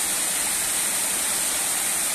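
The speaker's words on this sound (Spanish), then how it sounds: "Este pequeño salto de agua" A small waterfall roars in a steady, loud, continuous hiss of falling water, close by and alone.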